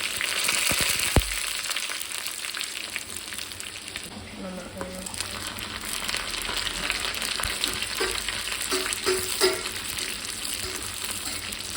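Oil sizzles and crackles in a pan after mustard seeds have popped, with a spoon stirring and scraping through the steady frying noise while a person talks at times in the background.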